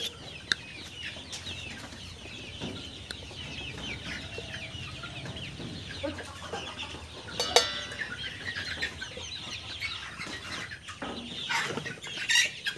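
Chickens cluck and call inside a poultry house on a farm, a continuous busy flock murmur with a few louder squawks and wing flaps rising from it, no talking.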